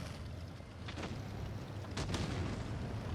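An IS-4 tank cannon fires in a video game battle, giving two or three muffled booms at a distance over a steady low engine rumble.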